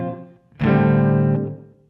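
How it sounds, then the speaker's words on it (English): A guitar chord played through an ambient reverb effect on a Kemper Profiling Amplifier rings out once, swelling in and then fading into a lingering wash of reverb tail. "I like this ambient type of sound"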